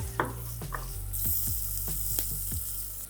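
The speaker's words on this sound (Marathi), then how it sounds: "फोडणी चांगली तडतडली की मग त्याच्यामध्ये घ्यायचा आहे कांदा" Chopped onion tipped into spluttering hot oil tempering, crackling and sizzling steadily, with a few utensil knocks and scrapes in the pan, no talk.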